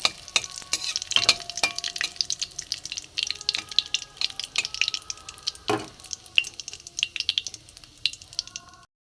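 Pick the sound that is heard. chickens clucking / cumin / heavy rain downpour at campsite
cumin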